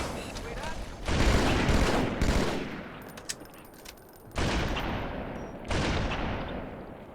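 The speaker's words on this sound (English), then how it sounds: "There are 3 jackal snipers backed up by 2 carbine elites in this part." Gunfire in a Halo 2 firefight with three jackal snipers and two carbine elites, loud bursts of fire coming in several waves between quieter stretches, with faint talk underneath.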